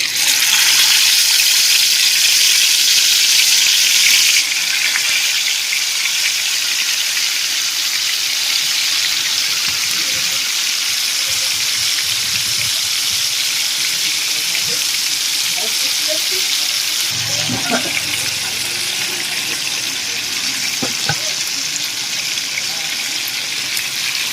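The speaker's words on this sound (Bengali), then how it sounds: "ম্যারিনেট করা মাছ গরম হয়ে গিয়েছে আমি এইগুলোকে একে একে এবারে কড়াই ভেজে নেব" Marinated fish fries in hot oil in a wok, a loud, close, continuous sizzle that shifts and surges as pieces are added, with occasional soft clatter.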